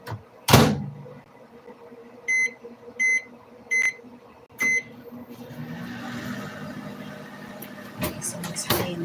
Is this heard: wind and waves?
no